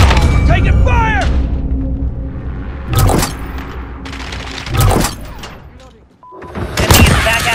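Gunfire and heavy booms from the video game Call of Duty: Modern Warfare, with loud bursts and blasts hitting about every two seconds over a constant rumbling battle background, as in an online multiplayer match.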